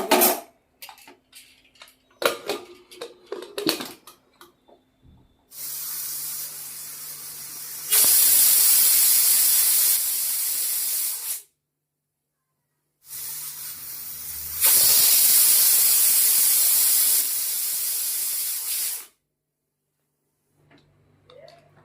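Pressure cooker on the stove, cooking dal with mixed vegetables and green chillies, lets out two long, loud hissing whistles of escaping steam, each rising to a harsh roar and cutting off sharply, after a few soft clinks of utensils.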